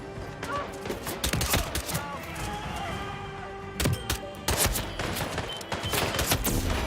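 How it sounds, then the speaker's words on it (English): Bursts of rapid gunfire in a video game crack repeatedly, some in quick volleys, with thuds and impacts scattered between them. "I heard gunshots."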